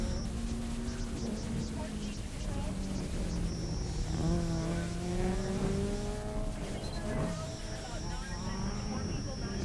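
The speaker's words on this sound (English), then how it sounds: "Martha Lou Hatton is out on course now" An autocross race car at a national solo championship runs the course, its engine droning and revving continuously at a distance with shifting pitch and faint tire squeal, under steady announcer talk.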